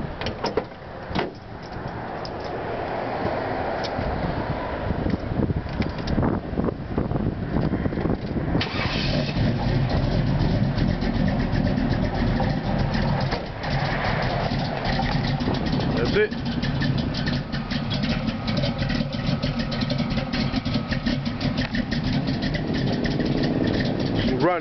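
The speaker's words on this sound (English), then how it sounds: "I'm gonna start it up for y'all that want to hear it" A 2002 Impala with a thumper cam and 22-inch rims cranks and catches about midway, then settles into a steady rough running note. A door clicks and voices talk over the engine.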